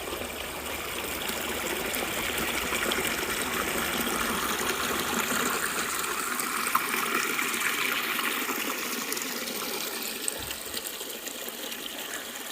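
Chatham Brook on the Appalachian Trail flows with a steady, close rushing and gurgling of water, continuous and even throughout, with no voices.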